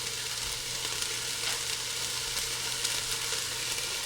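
Garlic and ginger fry in a pot for a chicken coconut curry, making a continuous, fairly loud crackling sizzle with faint stirring, close by and unbroken, with no talking.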